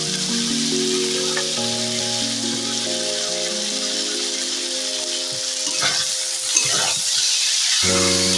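Bamboo shoots, three small potatoes and chopped tomato fry in a pan for a meat curry. A steady, close sizzle runs throughout, with a few scraping stirs toward the end and soft music playing underneath.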